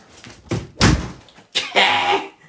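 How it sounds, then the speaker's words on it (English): A door is kicked shut at home in the evening, heard as two loud, close thuds with a rattle, about a second apart, with no voices. "Karate kick the door."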